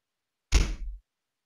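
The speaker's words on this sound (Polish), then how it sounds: "Otwieram drzwi." A door in a video game opens with one short, heavy thunk that fades quickly, heard close and alone against silence.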